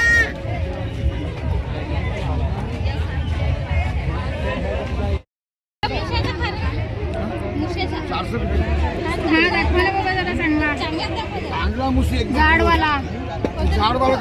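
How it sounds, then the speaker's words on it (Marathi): A dense crowd mills through the Mahalaxmi fair market at Dahanu, a loud continuous babble of many voices close around with brief calls, while one person talks over it; the sound cuts out for a moment midway. "यासाठी मावरा घेण्यासाठी एवढी सारी गर्दी आपल्याला पाहावयास मिळत आहे"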